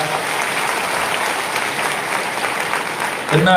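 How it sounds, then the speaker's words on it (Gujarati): Sustained audience applause at a live Gujarati performance event in Bharuch, dense and even throughout, with a voice starting to speak at the very end. "એકવાર ખૂબ તાળીઓના ગડગડાટથી એમને વધાવીએ"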